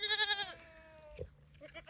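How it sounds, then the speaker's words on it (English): A goat on a farm gives one clear, wavering bleat up close, then the bleat trails off into quieter scuffling and faint farmyard background. "here's all the old goats, but they are not mingling real well yet"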